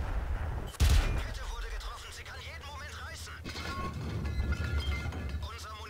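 Tank cannon fire in the video game World of Tanks from an A44 with a light gun, a single sharp blast early on followed by softer distant shots and battle rumble under background noise.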